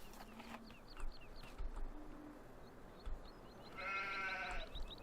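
Sheep bleating in the Farming Simulator 15 video game, several short faint calls scattered over a busy farmyard ambience with chicken-like clucks and a brief clearer bleat near the end.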